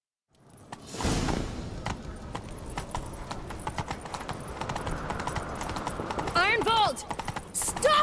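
Rhythmic hoofbeats of a galloping horse in The Witcher 3: Wild Hunt, steady and close, with whooshing motion and a short whinny near the end.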